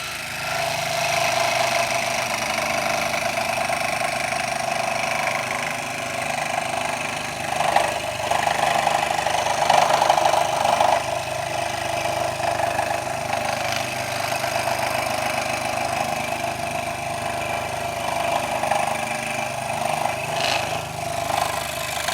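A power saw whines continuously while making internal cuts in wood for a birdhouse, a loud sustained buzz with slight shifts in pitch as it works through the material.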